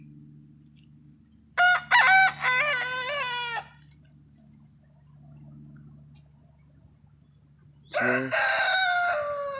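Roosters crowing in a pen at a campground in Navasota, two loud crowing calls several seconds apart over a low steady background hum, the second bird close and ragged, with a brief voice in between.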